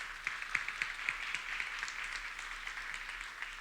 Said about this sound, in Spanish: Un aplauso para Guadalupe.